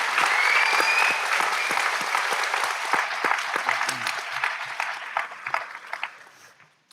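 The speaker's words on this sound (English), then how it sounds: "one more round of applause, please, for all 7 of our valedictorians." A crowd at the Pymatuning Valley High School class of 2026 graduation ceremony applauds the valedictorians, loud sustained clapping that gradually thins into scattered individual claps and fades out.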